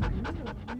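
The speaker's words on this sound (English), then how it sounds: "a black lab named Hunter may do more to help Jake cope with his illness" A black Labrador dog pants in quick, steady rhythmic breaths close to the microphone, four or five puffs in under a second.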